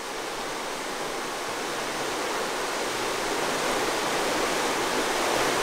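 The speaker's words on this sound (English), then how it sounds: "you can see all that water boiling up out of there" Spring water boils up from a crack in the ground in the Ozarks to feed a river: a loud, steady rushing roar with no pauses and no voices.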